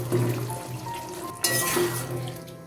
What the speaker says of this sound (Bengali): এবার ভেজে রাখা কচু আর আলুটা দিয়ে দিচ্ছি।